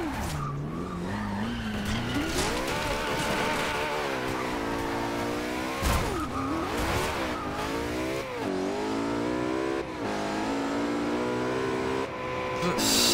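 A supercar in the racing game Forza Horizon 2 revs and accelerates hard, its engine note sweeping up and down repeatedly through gear changes, with tyres squealing and skidding throughout.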